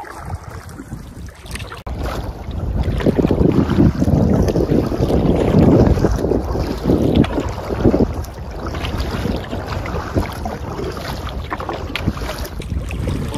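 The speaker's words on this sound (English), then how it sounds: "paddle up the shoreline to the Hop Lake portage" Steady wind buffets the microphone while water sloshes and splashes around a solo canoe on a lake with one-foot waves, with the rhythmic swish of paddling underneath.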